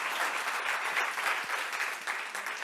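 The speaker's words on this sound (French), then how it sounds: "On l'applaudit." A conference audience claps steadily for a few seconds after an opening talk, a dense, even wash of applause without cheering.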